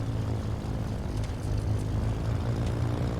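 A simulated twin-engine Milviz Cessna 310R's propellers drone steadily and loudly with a low, throbbing engine hum and broadband wash inside a flight simulator, with no voices.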